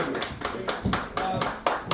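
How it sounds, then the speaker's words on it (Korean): Audience members at a year-end concert event applaud with a run of close, steady hand claps, fairly loud and continuous throughout, without talk. "큰 박수 부탁드리겠습니다"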